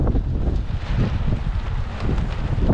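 Wind blowing outdoors at a nature retreat, gusting loudly across the microphone in low rumbling bursts with a faint rustle, steady throughout.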